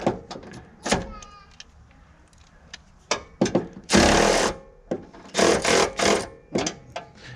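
Wrench work on a door bolt of a 1971 Pontiac Firebird: repeated loud ratcheting bursts and metallic clicks in short irregular runs, close up, with a few knocks between them and no voices.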